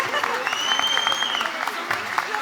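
Audience applause fills a live Turkish music show, a dense, steady burst of clapping from a crowd that holds for the whole moment, with faint high tones running over it.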